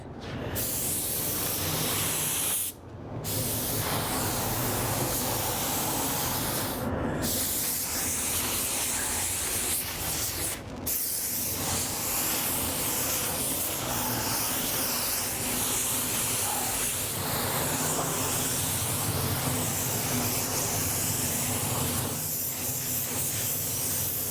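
A paint spray gun sprays a classic Ford Bronco, making a loud, steady close hiss that runs on with a few very short breaks where the trigger is released.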